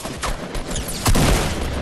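Gunfire in the Fortnite video game, a burst of rapid shots starting near the middle and a few earlier pops, loud and close over a busy game soundscape.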